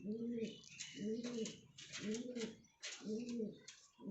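A pigeon coos in repeated rounded calls, about four close phrases in steady rhythm, each a soft throaty rolling note, with faint higher chirps in between.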